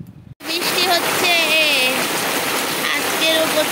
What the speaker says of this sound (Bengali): আজকেরও প্রচন্ড জোরে বৃষ্টি হচ্ছে